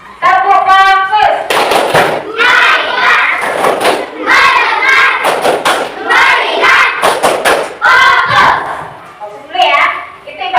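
Pupils in an Indonesian classroom perform the 'tepuk fokus' focus clap with their teacher, chanting together with bursts of rhythmic clapping in repeated patterns, loud and close.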